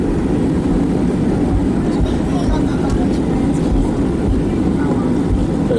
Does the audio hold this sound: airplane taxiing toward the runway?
yes